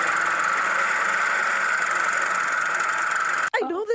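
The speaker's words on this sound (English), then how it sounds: "It is a lawnmower." A lawnmower running steadily nearby with a constant buzzing engine drone for about three and a half seconds, then it cuts off abruptly as a voice begins speaking.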